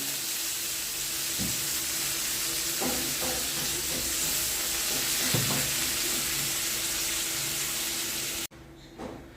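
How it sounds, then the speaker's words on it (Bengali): Water is poured into a pan of fried ridge gourd and potatoes for a fish and fish-roe curry, producing a steady sizzling hiss with scattered soft knocks before the sound cuts off abruptly near the end. "এবার দেবো এর মধ্যে জল।"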